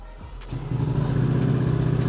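A Yamaha NMAX V2 scooter with about 50,000 km on it starts up near the listener, then settles into a steady, close idle with no talk.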